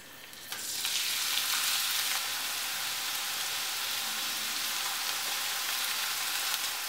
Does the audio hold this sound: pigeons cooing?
no